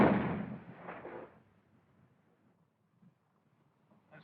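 Gunfire in the 1936 science fiction film Things to Come: one loud, booming shot at the start that fades over about a second, then near silence with a few faint distant pops.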